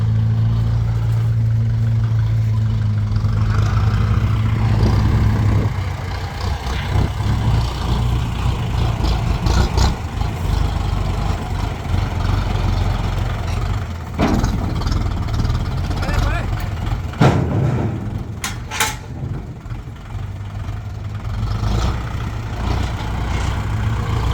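Steady low rumble of an M57 tractor engine running continuously, close and loud, with someone talking over it.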